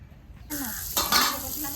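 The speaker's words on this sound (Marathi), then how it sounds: "आता कोलंबी फ्राय करायला ठेवले" Rava-coated prawns going into hot oil in a pan on a village wood-fired stove, a sudden close burst of sizzling that swells as more pieces are laid in.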